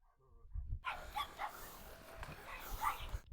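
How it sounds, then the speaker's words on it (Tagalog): A herding dog on a goat farm barks several times in quick, excited bursts, fairly close and loud, with a few yips mixed in. "Ang aso kong si Rocky, ang aking asong pastol"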